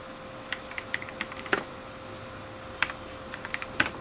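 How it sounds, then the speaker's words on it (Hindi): Computer keyboard typing with the shift key held for a capital letter: sparse, separate key clicks, a few at a time with pauses between, fairly close and quiet, no voices. "शिफ्ट दबा के मैंने ए लिखा"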